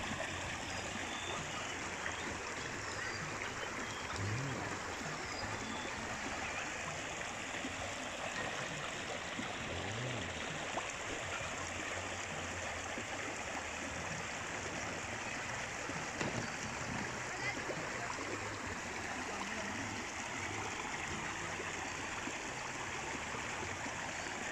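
A forest stream runs steadily over rocks, a continuous close rush and trickle of water that stays even and unbroken, with no voices.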